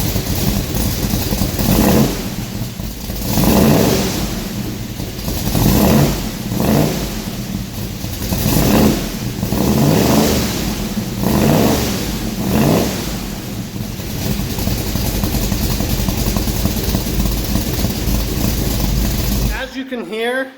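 A Chevy C10 truck fitted with an aftermarket exhaust revs repeatedly, loud throaty surges rising and falling in a steady rhythm over a rumbling idle, close by, with someone talking over it.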